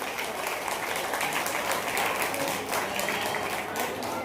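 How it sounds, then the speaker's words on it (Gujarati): An audience at a Krishna Janmashtami community celebration in Mumbai applauds steadily, with a dense, sustained wash of clapping throughout and no voice standing out above it. "ખરેખર એડવાન્સમાં તાળીઓથી વધાવજો."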